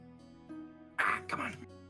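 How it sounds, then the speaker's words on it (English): A harsh, painful cough comes in two rough, raspy bursts close to the microphone, after a moment of quiet background hum. "That sounded like one of those coughs where it's like it hurts to actually cough."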